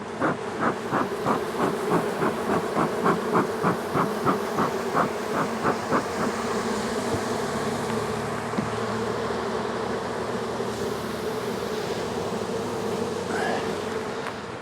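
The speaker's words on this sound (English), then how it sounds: "All right, lots of bees." Dense buzzing of many honey bees at an overcrowded hive ready to swarm, a steady loud drone with pulsing rhythm in the first seconds, no talk.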